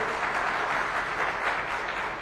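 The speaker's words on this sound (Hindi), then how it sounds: "एक बार और जोरदार तालियां, सारे लोग बजाएं पीछे तक" Crowd applause at a political rally, dense and continuous clapping from a large gathering that holds steady throughout, with no voices over it.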